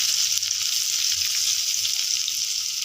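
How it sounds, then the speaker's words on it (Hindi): Crushed spices fry lightly in oil for Rajasthani besan gatte sabji, making a bright, even, continuous hiss close to the pan that holds steady without breaks. "इसे थोड़ा हल्का फ्राई कर लेंगे"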